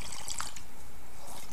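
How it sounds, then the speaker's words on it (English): Green smoothie juice drips and trickles through a straining cloth as it is squeezed by hand, a soft wet patter of drops close by, steady and quiet with no talking. "express the juice through the material"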